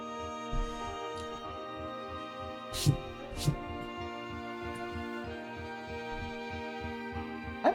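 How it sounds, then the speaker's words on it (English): A soft bass drum thumps in a steady, heartbeat-like rhythm beneath a sustained humming drone in a song, with a few brighter accents scattered over the top. "That little heartbeat sound right there."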